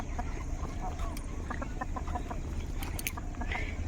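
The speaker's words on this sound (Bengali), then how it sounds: "আমাদের এই মুরগিগুলো এখান থেকে নড়বে না" Chickens cluck around a village home in the Sundarbans, with short scattered clucks coming through steady outdoor background noise.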